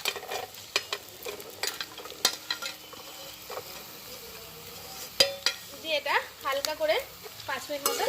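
Capsicum and onion stir-frying in a pan for chilli chicken, with a light sizzle and scraping spoon strokes at close range. Brief voice-like sounds surface near the end.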